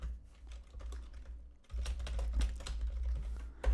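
Rapid clicking of a computer keyboard as a header is typed into a web page editor, a brief pause in the middle, then a denser run of close, crisp keystrokes.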